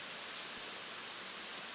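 Rain falls outdoors as a faint, even hiss, continuous and distant for a brief moment with nothing else standing out.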